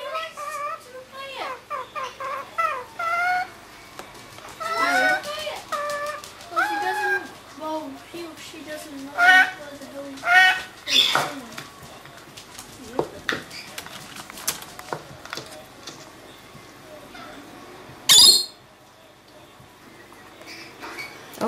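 Pet bird giving a string of short squawks and chirps in irregular bursts, close and fairly loud, with a sharp high screech near the end and a person talking in between.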